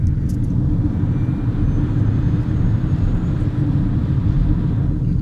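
Steady low rumble of road and tyre noise inside the cabin of a 2025 Honda e:N1 electric car cruising at 110 on a highway, constant and unbroken with no voices.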